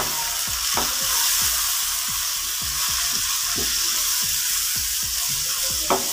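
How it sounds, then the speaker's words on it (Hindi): Masala with tomatoes frying in a pan for kadhi pakora, with a constant sizzle under a regular rhythm of spoon stirring scrapes, close and steady, no speech. "अभी हम इसमें ऐड करेंगे टमाटर। इस तरह आप इसको अच्छे से साथ खिलाएं।"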